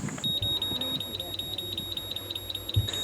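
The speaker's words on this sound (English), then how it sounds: "the gas alarm that goes off for a various range of gas problems" A caravan's overly sensitive gas alarm going off inside a van, sounding a rapid train of high electronic beeps in quick repeating bursts, loud and close, with low rumbling background sounds underneath.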